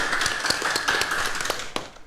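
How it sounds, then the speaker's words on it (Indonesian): Scattered applause from a live Gesah Banyuwangi show audience in Banyuwangi, a loose patter of claps with sharper individual hits standing out, moderately close, alone without talk. "Sekali lagi tepuk tangan yang meriah untuk kita semuanya."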